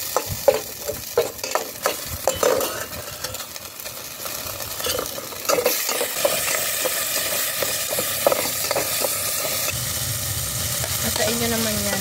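Garlic sautéing in a pan for tuna pasta, cooked outdoors at a farm: a continuous crackling sizzle runs throughout, broken by frequent spatula scrapes and clinks close by.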